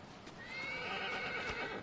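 A single horse in the video game Shadow of the Colossus whinnies loudly in one drawn-out neigh, with faint hoof sounds beneath.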